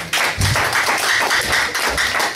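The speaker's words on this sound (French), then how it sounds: "Applaudissez pour le cœur." Church congregation clapping during a Sunday service, a dense burst of applause with steady rapid hand claps that holds evenly for a couple of seconds, loud and close.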